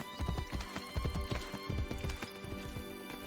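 Horse galloping in the video game Assassin's Creed Brotherhood, a fast, steady drum of hooves up close, with a faint whinny and continuous game ambience underneath.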